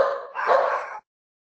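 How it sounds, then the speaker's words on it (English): A pair of household dogs give a quick, close double bark, one sharp yelp followed immediately by a louder bark, then silence. "we've got a couple of dogs who just generally kick off whenever they hear anything"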